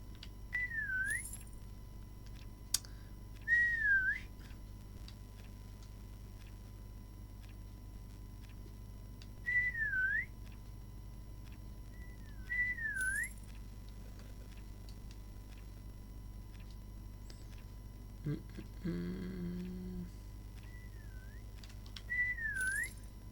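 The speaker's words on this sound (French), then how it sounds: "Bon, on va siffler un peu, sinon c'est pas drôle." Someone whistles short melodic phrases of rising and falling notes while playing Roblox, repeated every few seconds over a steady low game hum, with a brief clack and a soft thud in between.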